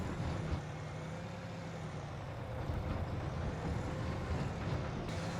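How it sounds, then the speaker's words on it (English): Dump truck in Farming Simulator 25 driving through a Brazilian quarry: a steady, loud diesel engine drone with rumbling low end and a faint high whine, constant throughout with no voices. "you really shouldn't be driving a dump truck in a quarry"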